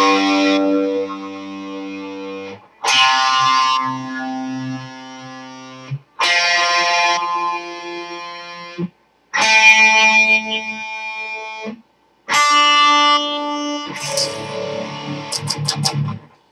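Heavily distorted electric guitar tuned to C standard rings out in several sustained chords and notes, each held for a couple of seconds and separated by short silences, with effects adding shimmer and echo.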